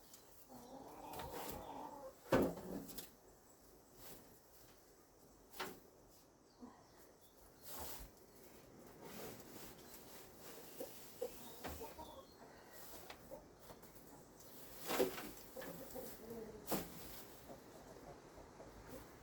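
A hen clucks intermittently in a henhouse, with scattered soft calls and short louder bursts spread over a quiet, faintly noisy background.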